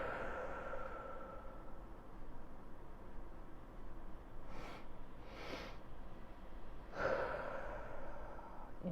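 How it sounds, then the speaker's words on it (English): A relaxation breathing exercise: two short inhales followed by a longer exhale, heard faint and close over a soft background hiss. "it is the 2 inhales followed by a long exhale"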